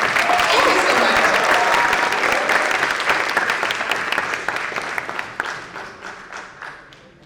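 Warm applause from an audience at a corporate leadership competition event as speakers take the stage, loud and dense at first, then thinning into scattered claps as it fades.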